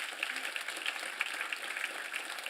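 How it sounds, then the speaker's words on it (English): A conference audience claps for a speaker. The applause sounds soft and distant, an even patter of many hands for a couple of seconds. "I would like to give Robert a big applause"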